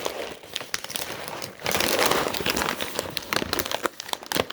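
A resealable bag of Tiki Cat Born Carnivore Light turkey dry cat food crinkles and rustles close up, steady plastic crackling for several seconds with no talk.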